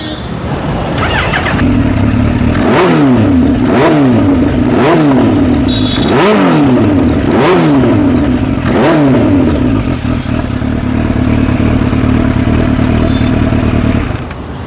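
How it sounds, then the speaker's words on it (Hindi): A loud Kawasaki Ninja H2 motorcycle engine with an SC Project exhaust revved repeatedly in sharp bursts, about half a dozen rising blips over a steady rumbling idle, close by. "SC प्रोजेक्ट का ओरिजिनल आपका एग्जॉस्ट लगा रखा है।"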